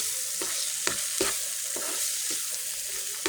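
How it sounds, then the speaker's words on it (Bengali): Small fish frying in hot spiced oil in a pan, a continuous bright sizzle punctuated by regular scraping strokes as the spatula stirs, roughly two per second, close and loud with no voices. "এবার এই পর্যায়ে দিয়ে দেবো সাজিয়ে রাখা ছোটো মাছগুলো, দিয়ে হালকা নাড়াচাড়া দিয়ে"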